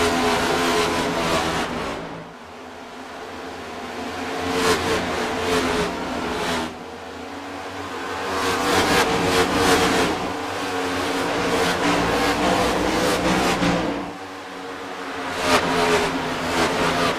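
Sim race cars at the start of an iRacing event at Kansas, several engines revving and roaring up through the gears, loud and close with repeated surges and drops as shifts and passes come and go.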